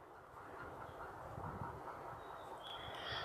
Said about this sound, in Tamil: அங்கே ஸ்ட்ரைட்டாக ஒரு ட்ரெயின் வருது.